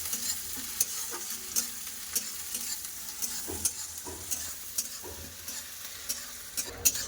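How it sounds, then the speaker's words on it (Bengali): Chopped onions fry in a pan in a Bengali home kitchen, a soft, constant sizzle broken by regular scraping knocks of a spatula stirring, with no talking. "কেটে রাখা পেঁয়াজ পেঁয়াজটা ভালো করে ভেজে নেবো"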